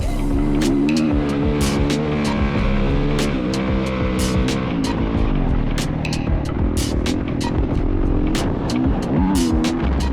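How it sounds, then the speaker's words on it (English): A mini motocross bike at the World Mini 2023 race, recorded from onboard during a lap of the track, with a loud continuous engine whine rising and falling through the gears, wind buffeting and frequent sharp knocks from the rough course. "McCoy Bra out there on the course with a little GoPro lap earlier today on Moving Day."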